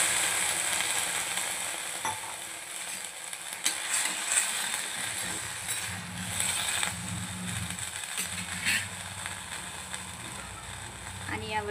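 French beans in a pan sizzle steadily with a bright hiss after water is poured in. Occasional stirring knocks and clatters sound close by under the sizzle.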